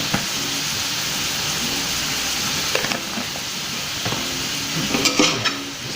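Ground lamb with garlic powder, mint and cumin fries in a pan with a steady close sizzle, while a utensil stirs and scrapes it in occasional bursts.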